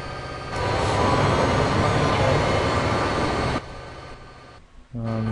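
A loud, steady rumble and clatter of a video game train rolling past nearby, then it drops away abruptly, leaving quieter background and a brief tonal sound.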